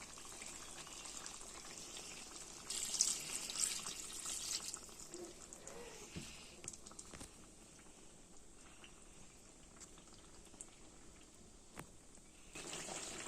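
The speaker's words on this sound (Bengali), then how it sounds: "এখন আমি পানি দিয়ে দেবো, ঝোলের পানি" Water is poured into a pan of braised country chicken curry to make gravy: a rushing pour for a couple of seconds, then a softer bubbling simmer, with no talking.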